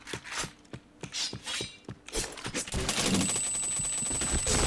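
Rapid bursts of game gunfire from a shooter match ring out, first as separate sharp shots, then as a dense, sustained barrage with metallic clatter.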